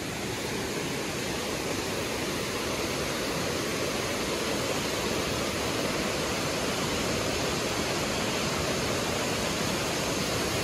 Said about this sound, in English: that is the waterfall we've been headed for